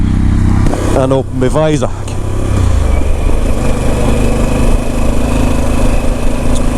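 Pan America motorcycle ridden along a fog-bound road, a steady low engine drone with wind rumble running throughout, with a rider's voice speaking briefly near the start.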